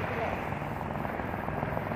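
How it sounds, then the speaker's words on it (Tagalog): Helicopters circling overhead near a beach, a steady broadband rotor drone that stays loud and even throughout with no breaks. "May bakit nag-ano itong mga helicopter na to?"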